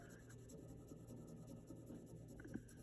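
Graphite pencil lightly shading a value study on paper, a soft continuous scratchy rasp with faint rhythmic strokes, close and quiet, with no talking.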